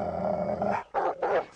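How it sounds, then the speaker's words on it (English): A scrappy little hound growls loudly and close, a sustained rumbling snarl that breaks off, then returns in two short, harsh bursts. "Scrappy little hound."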